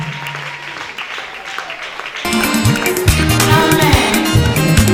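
Church congregation at a testimony service applauding for Jesus Christ, quieter clapping at first that swells suddenly into dense, loud applause mixed with voices and cheering.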